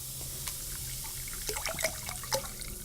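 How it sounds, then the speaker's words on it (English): Water poured onto a wintergreen bath bomb mixture with mineral pigments, faint close trickles and a few small splashes and drips over a low background hum. "Let's put some more water in there"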